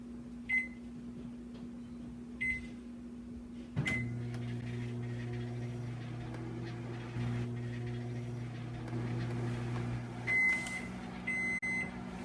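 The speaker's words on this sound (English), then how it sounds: "Microwave, got it?" A steady low hum of a microwave oven running, with a few short beeps at the start and again near the end, plus a soft thud midway.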